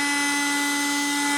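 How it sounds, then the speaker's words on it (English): A vacuum cleaner sucks debris off an iRobot Roomba 500 series filter, a steady loud whine with a strong constant hum and no break. "Then vacuum all the debris and vacuum the filter."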